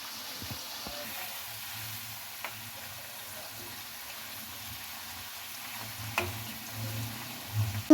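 Egg-coated french fries sizzle softly in hot oil, a steady low frying hiss with a few faint spoon scrapes and clinks scattered through, ending with a couple of louder knocks.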